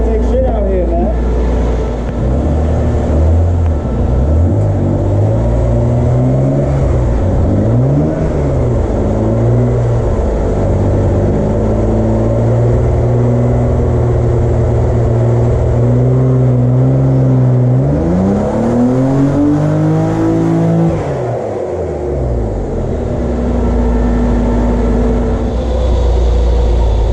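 A Nissan 300ZX engine with a turbo and intercooler revs on a dyno, a loud continuous drone that rises and falls through several sweeping rev pulls, with people talking over it.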